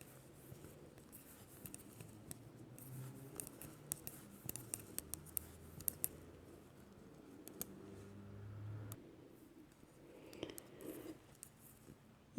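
Scissors snip through the knitted stitches of a long-sleeved white spring blouse in a quiet room, giving a string of faint, sharp clicks with soft fabric rustling between them.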